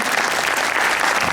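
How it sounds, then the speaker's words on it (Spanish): A crowd at a cultural lecture gives José Ochoa warm applause, a brief, dense burst of clapping at steady loudness throughout. "un aplauso caluroso para José Ochoa"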